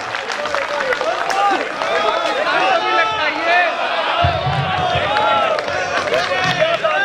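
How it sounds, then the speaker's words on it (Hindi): A crowd at a Hindi poetry recital in Waidhan, Singrauli, Madhya Pradesh, claps loudly and steadily, the applause blending with cheering and overlapping voices for several seconds. "एक तालियां बजाओ जरा जोरदार एक बार"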